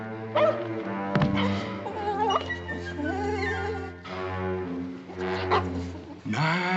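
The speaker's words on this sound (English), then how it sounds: "Come on, puppy. Come on. Come on here, Shorty" A puppy yips, whimpers and barks in short bursts close to the mic while a man keeps calling it over to a bath tub.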